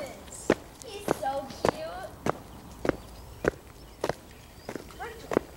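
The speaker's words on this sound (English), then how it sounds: "Sounds like footsteps." Footsteps in an indoor scene from a children's film, evenly spaced sharp knocking steps about half a second apart, with a voice talking in between.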